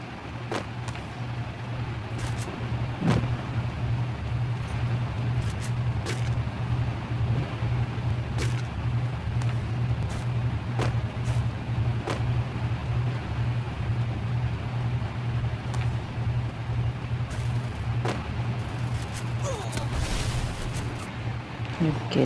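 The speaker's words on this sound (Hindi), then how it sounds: "एक बंदे के नीचे गाड़ी की आवाज।" A vehicle engine in the game Free Fire drones steadily throughout at moderate loudness, a constant low hum broken by scattered sharp clicks and taps, with a brief busier flurry near the end.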